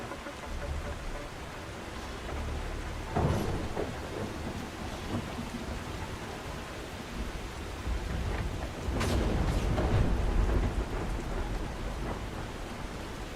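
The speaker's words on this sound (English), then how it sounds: "You know it's foggy and rainy when you can't even see the Exodus station that you're right next to." Steady rain hisses over the ground in The Last Caretaker video game while rolling thunder rumbles in twice, a first swell early on and a longer, heavier roll later, under foggy stormy weather.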